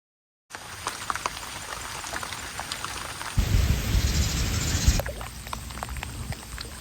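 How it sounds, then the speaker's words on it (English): Heavy rain pours down steadily on a farm in Thailand, a dense continuous hiss with scattered drops that swells into a louder downpour for a couple of seconds before easing back to a steady fall. "it's peeing down with rain"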